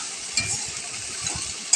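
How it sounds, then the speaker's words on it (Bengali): A spice paste of coriander and a little chili powder is sautéed in a pan. There is a brief, close sizzle with a few light stirring scrapes. "মশলাটাকে কষিয়ে নেব।"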